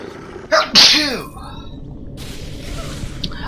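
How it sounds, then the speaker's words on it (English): One sharp, close sneeze with a quick intake of breath just before it, standing alone in an otherwise quiet indoor setting. "give me a second, I gotta sneeze"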